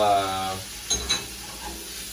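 Morel mushrooms cooking in a pan for a quiche give off a soft, steady sizzle that runs throughout. A brief voice is heard at the very start.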